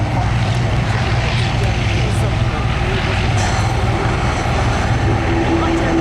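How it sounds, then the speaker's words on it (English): A Fairey Swordfish Mk 1 biplane with a radial engine drones past at an air display, a broad loud propeller roar that stays steady for several seconds, with a narrator's voice running underneath. "the aircraft passes by there"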